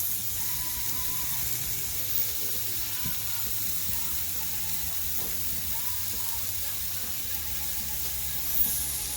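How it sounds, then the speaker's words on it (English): Water runs steadily from a kitchen tap during handwashing, a soft continuous hiss and splash at moderate distance with faint clinks, holding evenly throughout. "Wash my hands."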